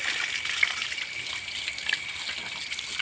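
Water trickling and splashing steadily while a calf is washed, close and moderately loud against a faint high hiss, with no speech.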